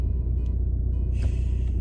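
Steady low engine rumble and road noise from inside a moving car, constant and close, with faint higher hiss toward the end.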